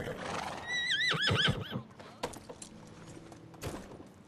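A horse in a medieval life-sim video game neighs loudly with a shrill, quavering whinny, followed by a few soft clops and faint mechanical rattles.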